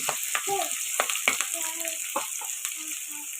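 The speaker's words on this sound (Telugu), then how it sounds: "ఉల్లిపాయలు బాగా మగ్గిన దాకా ఫ్రై చేసుకోవాలి" Onions and green chillies frying in hot oil for a chicken masala curry, a steady close sizzle with a few stirring clinks, while someone talks over it.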